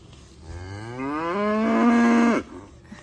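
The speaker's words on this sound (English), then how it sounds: "Little sassy cows." A single long, loud cow moo rising in pitch, drawn out for nearly two seconds before cutting off, with faint background noise, at a fall fiber festival.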